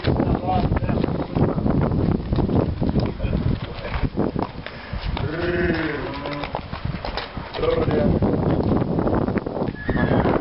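Draft horses, a mare and a stallion, whinny and neigh close by, with a clear drawn-out call midway, over steady farmyard noise and people talking in the background.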